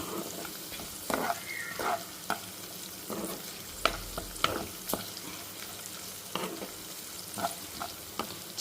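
Green chillies fry and soften in a pan under a quiet steady sizzle, broken by occasional spatula scrapes and light taps against the metal, close but fairly soft, no talking.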